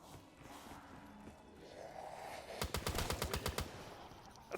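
Rapid burst of M-14 rifle shots fired in Black Ops 3 Zombies, about eight sharp cracks in quick succession after a stretch of quieter game ambience, loud and close.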